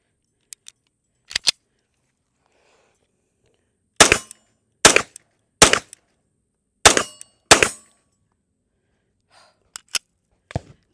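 Sharp, loud gunshots from a Taurus PT92 AFD 9mm pistol, fired in irregular single shots and quick pairs with short silent gaps between, plus a few fainter clicks and pops.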